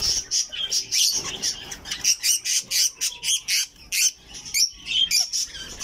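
A budgerigar parakeet at a backyard breeding setup gives rapid, repeated chirps and squawks close up, in bursts of short warbling calls with no talking.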